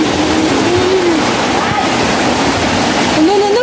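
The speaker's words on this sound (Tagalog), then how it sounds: "Nanagyod diri sa mong likod ang tubig. Dito na po yung tubig dyan." Typhoon floodwater rushes steadily in a loud, continuous roar close by, with a voice speaking briefly over the churning flow.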